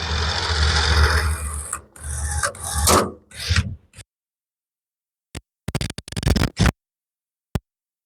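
A TK4500 portable winch hauling in rope, heard as a loud, raspy grinding pull for about four seconds, then silence broken by a few short bursts of the same rough mechanical noise.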